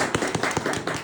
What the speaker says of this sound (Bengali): চ্যাম্পিয়ন অনুযায়ী হাততালি দিয়ে সবাই।